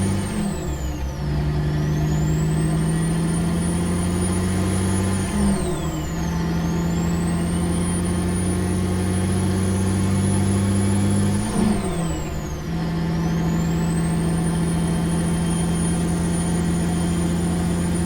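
Freightliner FLX 359 hauling a cattle pot trailer in American Truck Simulator, its diesel engine droning loud and steady as it pulls away, revving up through gears with brief dips at each shift and a rising whine overhead.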